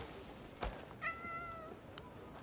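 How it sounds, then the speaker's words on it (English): A cat in the video game Crimson Desert gives a soft, drawn-out meow near the middle, framed by a couple of faint clicks and taps, quiet and close against low background noise. "Comes now the kitty."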